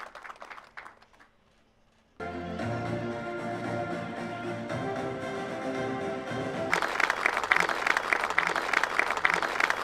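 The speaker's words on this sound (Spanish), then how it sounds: "Fuerte las palmas." Applause breaks out at a Peruvian government hospital plan presentation after a brief hush, a dense steady clapping with a tonal hum beneath, then swells brighter and louder near the end.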